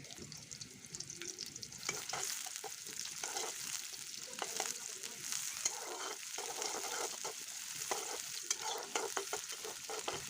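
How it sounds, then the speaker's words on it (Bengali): Chopped onion fries in oil in a pan as a fish curry with green banana gets started. It makes a steady close sizzle, broken by scraping stirs of a spatula, with no talk. "পরিমাণ মতো কিছুটা তেল দিয়ে দিলাম আর পেঁয়াজ কুচিটা দিয়ে একটু নরম করে"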